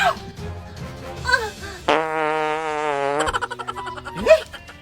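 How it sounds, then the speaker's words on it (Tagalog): A loud, buzzy fart lasts just over a second in a comedy skit, with a few voices and scattered sounds around it. "Utot lang yun."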